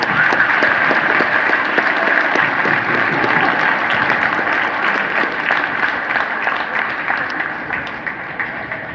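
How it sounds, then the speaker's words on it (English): Steady, dense applause from an audience welcoming a guest speaker, loud and sustained for about nine seconds before tapering slightly near the end, with no speech over it. "One more round of applause as well."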